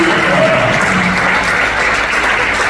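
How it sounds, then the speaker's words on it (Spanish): A church congregation claps together in a steady, even wash of applause that fills the room and holds without pause. "¿Cuánto le da un aplauso al Señor?"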